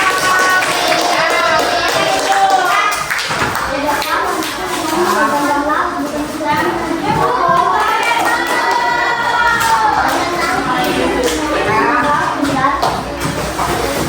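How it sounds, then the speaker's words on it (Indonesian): A school class claps for a presenting group, the hand clapping mixed with children's chatter and shouting in a busy classroom. "beri tepuk tangan untuk kelompok 4"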